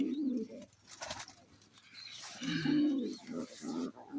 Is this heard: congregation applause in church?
no